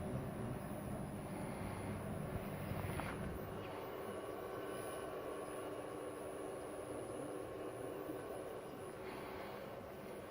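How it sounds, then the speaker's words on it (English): Electric motor driven by an Actus Power NPSA-GMDA162ZZ drive under bench test in an electronics repair shop, a steady broadband whir holding constant throughout with a slight rise in pitch as the speed is turned up. "We're going to make it run now, and we'll turn up the speed a little"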